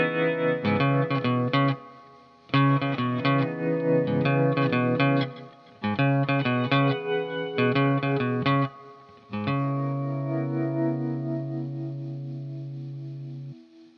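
Electric guitar plays the bass line from a song, with a chorus-effected tone. Bursts of rhythmic picked notes are broken by short gaps, then a final low note rings out and slowly decays.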